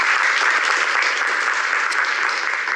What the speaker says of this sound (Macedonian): Аплауз за почеток, силен, јасен, очигледно заслужен